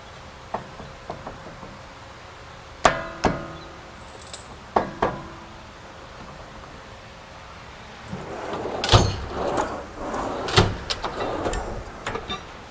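A dead blow hammer taps a brake rotor to free it, irregular sharp knocks spread over the span, some isolated and others clustered in a busier, rattling stretch near the end.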